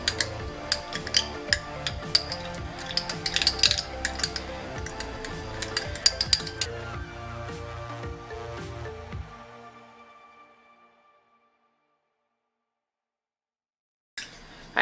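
Vitamin E oil mixture being stirred in a small container, busy clinking and tapping for several seconds that fades to near silence, then a brief knock at the end.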